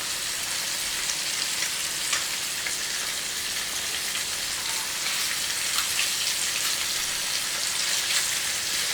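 Nethallu fish, a small anchovy-like fish, frying crisp in hot oil, a steady, dense sizzle and crackle that runs unbroken at close range with no voices.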